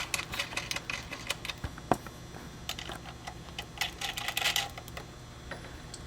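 A wrench works on the bolts of a replacement spa pump, giving a run of small metallic clicks and ticks in an uneven rhythm, close and fairly quiet with no talk.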